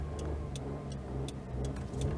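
Daewoo Tico engine running steadily at a low rumble, heard from inside with faint periodic ticking over the drone.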